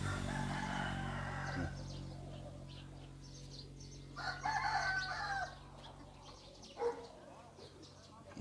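Roosters crow at a chicken coop, a few calls rising now and then over steady background noise and a low hum.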